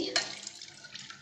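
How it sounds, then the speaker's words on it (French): Milk is poured into a pot in a short, close, soft liquid splash lasting about a second. "فرغنا الحليب ونزيدو"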